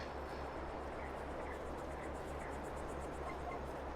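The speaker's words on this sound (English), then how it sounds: "And I hear like crickets and stuff as well." Crickets and insects chirping in the countryside ambience of Farming Simulator 22, a faint, steady high trill over a continuous low background hum, with no other distinct sounds.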